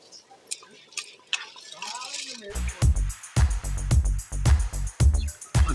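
Soaked basmati rice tips into a large mutton biryani pot over a village wood fire, first a soft trickling pour and then a series of heavy wet thumps and splashes close by, with a voice talking over part of it.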